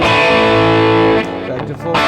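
Tease Guitars SBH-E Tele-style electric guitar played through an effects unit with the humbucker split, giving sustained overdriven chords that ring loud and close before easing off, then swelling again.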